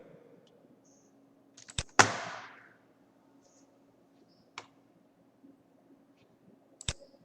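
A computer mouse clicks a few times during an online geometry class, sharp isolated clicks at intervals with one louder click and a brief rustle, close and alone with no talk.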